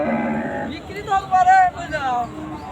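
A cow lets out a loud, drawn-out moo at a busy cattle market in Chandaikona, Bangladesh, following a voice at the start.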